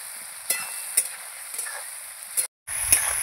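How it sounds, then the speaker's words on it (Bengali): Hilsa fish curry with potatoes and ground black cumin is sautéed in a pan: a quiet sizzle with several short scraping stirs spaced roughly half a second apart, and a brief drop near the end. "এই যে আমি একটু কষিয়ে নিই।"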